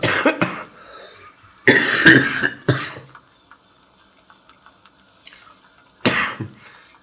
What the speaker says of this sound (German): ich hatte den Hustenanfall gehabt